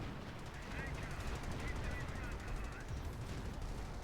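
Artillery and gunfire in the World War II strategy game Company of Heroes: dense, continuous rumbling blasts and rapid shots layered into a loud, sustained battle din.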